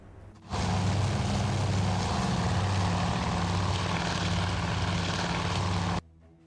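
Steady propeller-driven warplanes drone loudly in the naval strategy game Task Force Admiral, a constant engine hum with a low throbbing tone that starts abruptly, holds without a break for several seconds, then cuts off.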